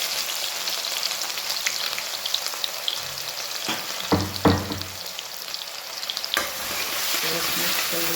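Garlic, green garlic and green chili paste fry in a pan with tomatoes, a constant close sizzle broken by a few clattering stirs in the middle and again near the end.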